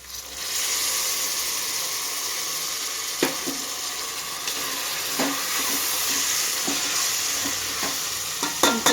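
Brinjal simmers and fries in tamarind water for vangi bath, giving a steady, close sizzle and bubbling broken by occasional sharp knocks of a spoon stirring the pan, with no talking.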